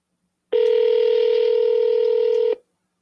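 A single telephone ringback tone sounds on an outgoing call: one steady electronic tone lasting about two seconds, clean and loud, starting abruptly after a brief silence and cutting off sharply.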